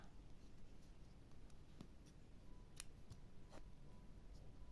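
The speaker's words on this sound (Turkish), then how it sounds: "ipi kesebiliriz" Scissors cutting skin-toned yarn during amigurumi crochet work, a few quiet, sharp snips close by against a faint background, with no talking.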